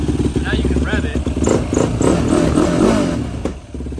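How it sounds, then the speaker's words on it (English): Yamaha YFZ 450 ATV engine running lean with the choke out, revving unevenly with popping and backfiring, loud and close, mixed with some talking over a rough idle. "But it's still popping, backfiring, just running like shit"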